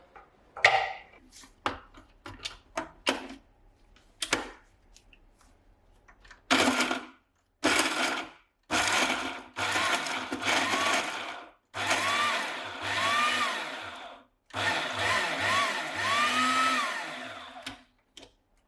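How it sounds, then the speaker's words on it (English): A small food processor whirs in repeated short pulses, chopping ingredients for an Italian sausage and pesto roll; close bursts of motor noise alternate with brief pauses, growing longer toward the end. "we're just going to pop this into the small food processor"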